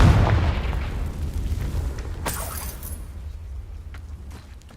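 A Confringo spell in Hogwarts Legacy lands as a heavy, rumbling blast with a crackling burst on top. A broad roar hangs under it and fades slowly, with no voices.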